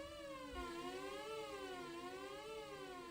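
A steady Logic ES2 synthesizer tone, rich in harmonics, whose pitch sways slowly up and down in a regular, siren-like wobble from synced LFO modulation.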